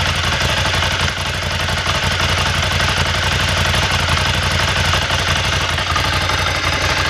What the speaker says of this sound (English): air-cooled Ducati V-twin.